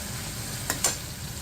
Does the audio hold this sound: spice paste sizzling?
yes